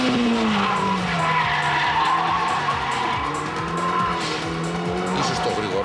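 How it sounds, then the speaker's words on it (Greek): Tuned Toyota Celica T180 making about 320 hp on 17-inch wheels with 215 tyres, engine revving hard with rising and falling pitch sweeps, loud and close, with tyre squeal or skidding mixed in throughout. "Ακούστε τον τρόπο που ανεβάζει αυτό το συγκεκριμένο σέλικα."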